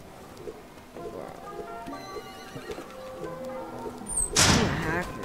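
A horse whinnies loudly near the end of a clip from the Roblox western game The Wild West, after faint clip-clopping hoofbeats and low game background sounds.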